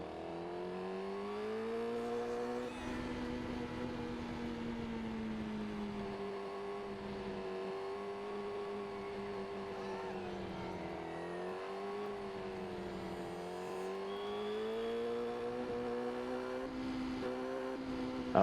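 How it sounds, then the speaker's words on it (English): A car engine drops through the gears into a turn, giving a steady close whine whose pitch dips, steps and rises again over about eighteen seconds, with no talking. "Third gear, second gear, first gear."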